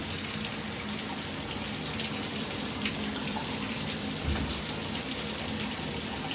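A new shower head sprays water in a steady, dense hiss of falling spray that stays at an even level throughout, close and continuous with no pauses.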